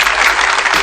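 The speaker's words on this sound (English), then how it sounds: "Let's go ahead and give her some applause." A short burst of audience applause, a dense, steady wash of clapping that lasts under a second and stays fairly loud throughout.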